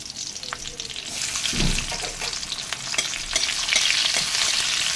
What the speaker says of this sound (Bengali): টমেটোগুলোকে একটু হালকা করে ভেজে নেব